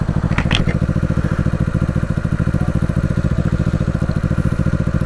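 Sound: vintage Honda motorcycle riding

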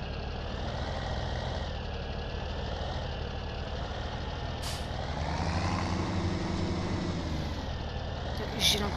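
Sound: car approaching in video game

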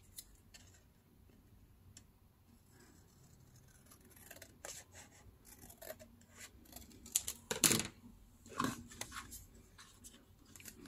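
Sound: scissors cutting decorative paper

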